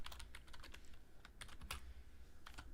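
Fingers type on a computer keyboard in a steady, quick patter of close, crisp key clicks with occasional heavier strokes, with no talking.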